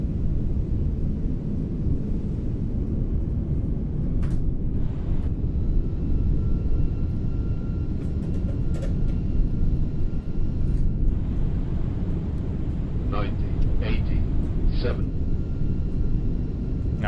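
An Airbus A340 flight simulation in MSFS 2024 produces a steady, loud engine rumble on approach to landing. Clicks and brief higher tones sound over it, and no one talks.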